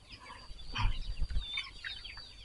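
Free-range chickens in a garden cluck and peck softly at close range, with scattered short calls rising and falling over a quiet outdoor background.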